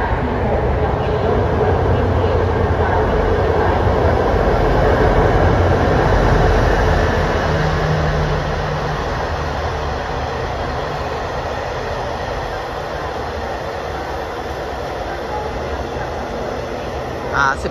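Former JR West train cars run on an elevated line at the new Don Mueang station, giving a loud, steady rumble and rush of rolling carriages that eases slightly partway through and then holds.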